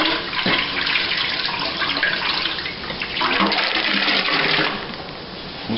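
Water pours steadily into a container during pear winemaking, a continuous splashing rush that swells and eases slightly, close by.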